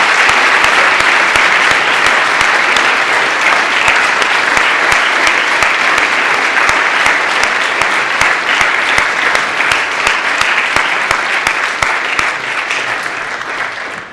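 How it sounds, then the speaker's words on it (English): A chapel audience gives a long round of applause, dense and loud, with many hands clapping steadily and a slight taper toward the end. "I ask that you join me in thanking them with a round of applause."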